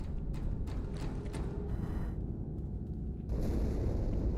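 An explosion aboard the ship Athens in Halo 2, heard as heavy rumbling booms and a deep roar that thins out briefly, then surges back louder near the end.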